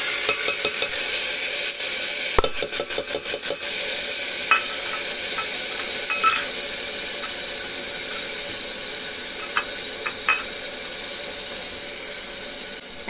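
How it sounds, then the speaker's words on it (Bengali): Red lentils go into onion and garlic frying in a pan, giving a constant close sizzle with scattered clinks and scrapes of a utensil stirring, no voices. "এখন দিয়ে দেবো মসুর ডাল।"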